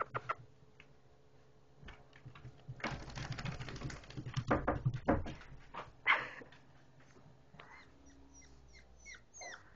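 Two wet puppies just out of a bath, making soft whimpers, shaking and scrabbling sounds at close range with faint background clatter, fairly quiet overall.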